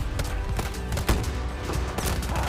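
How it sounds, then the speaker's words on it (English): Enemy gunfire in a video game, a brief rapid string of close shots with one sharper crack in the middle, dense and loud over a rumbling background. "Enemy fire incoming!"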